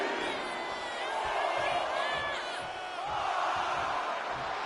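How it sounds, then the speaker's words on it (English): A wrestling arena crowd in the WWE 2K25 video game roars in a steady, moderately quiet wash of cheering during a Last Man Standing match, with a commentator's voice running over it and a few dull impacts. "Jacob Fatu feeding off the crowd, feeding off their energy."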